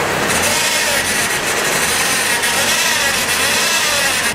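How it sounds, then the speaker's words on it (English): Car engine revved while parked, with a bad transmission fluid pump giving a steady high whine over broadband mechanical noise, loud and close, sustained throughout without talk. "Now that whining noise is coming from our transmission fluid pump"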